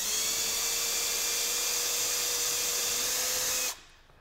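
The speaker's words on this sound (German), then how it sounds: "Ohne Schlag zu bohren." A high, steady whine of an electric drill boring continuously into plasterboard without hammer action, close and loud, then stopping abruptly near the end.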